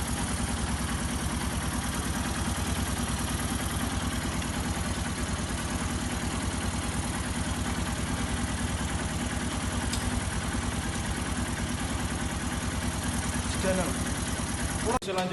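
A Honda Verza motorcycle engine idles at a steady, even putter, close by and continuous for the whole stretch, with a faint voice underneath near the end.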